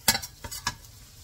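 Garlic sautéing in a pan while a utensil stirs it, heard as a few quick clacks and scrapes over a soft, faint sizzle, close by with no voices.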